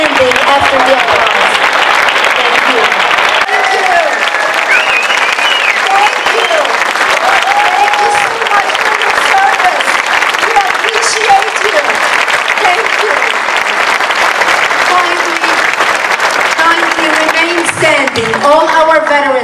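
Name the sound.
audience applause for veterans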